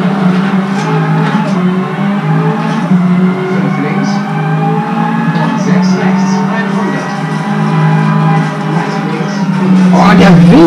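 A Ford Focus WRC rally car at the Monte Carlo Rally roars at high revs with its rear sliding out, the loud, sustained engine note rising sharply near the end.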